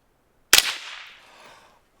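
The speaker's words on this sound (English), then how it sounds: "I'm gonna shoot as much steel as I can so you can hear the difference between the suppressor and the steel." A single suppressed shot from a KelTec P50 rings out at close range. Its sharp crack is followed by a long, fading metallic ring, likely from a steel target, in an otherwise quiet outdoor setting.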